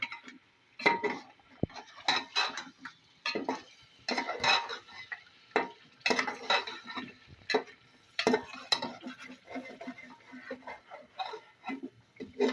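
Paya masala with yogurt and fried onions is stirred and sautéed in a pot for beef paya, giving irregular scraping and clinking of a spoon against metal, close and fairly quiet, in bursts separated by short pauses.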